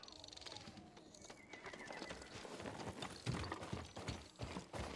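A horse whinnies in the video game Ghost of Tsushima, then hooves clop steadily as the animal moves about nearby, with faint mechanical clicks in the background.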